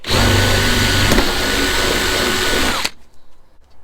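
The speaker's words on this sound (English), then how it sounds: "So that's the last of the holes drilled out for the riv nuts." Power drill boring rivet-nut holes through carbon-fibre doors of an Alfa Romeo GTV Bertone, a loud, steady whine that runs close-up and continuous for nearly three seconds, then cuts off abruptly into quiet room noise.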